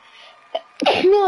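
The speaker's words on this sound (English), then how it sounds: "Ooh, I need to sneeze." A single sharp sneeze from a person bursts out after a brief quiet breath, loud and close, followed immediately by a voiced exclamation.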